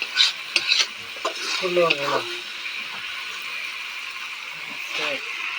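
Chicken curry with potatoes sizzles in a pot as a spoon scrapes and stirs it in steady strokes, with someone talking over the cooking.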